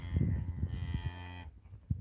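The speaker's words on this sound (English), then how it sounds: "So now we'll look at the cows" Cattle on a homestead farm moo in low, drawn-out calls close by, one moo following another over a couple of seconds with no one talking.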